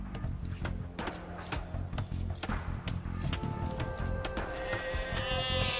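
Sheep in the video game Age of Empires II Definitive Edition bleat several times against a dense bed of game sound, the calls fairly clear above the busy background.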